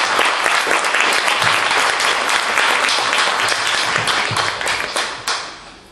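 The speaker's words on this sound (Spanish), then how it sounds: "pues nuevamente fuerte el aplauso para Gael, que tiene unos meses." Loud, dense applause from a music recital audience in a library, many hands clapping close and vigorously before thinning out and fading near the end.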